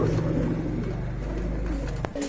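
Quality pigeons give low, soft cooing murmurs close up over a steady background hum, ending with a faint sharp tap near the end.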